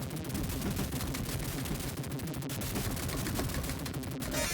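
Constant rapid gunfire and explosions from the Silkworm arcade shoot-'em-up fill the whole stretch, a dense, loud, unbroken barrage of game shooting effects.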